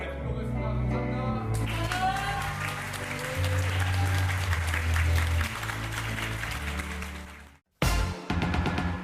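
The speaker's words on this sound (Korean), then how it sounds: "무한한 가능성을 꿈꾸며 달려나가는 청춘 모닥치기에 뜨거운 박수를 보냅니다" A theatre audience applauds a youth troupe after an original musical; sustained applause carries over loud music for most of the clip, cuts out briefly near the end, then resumes.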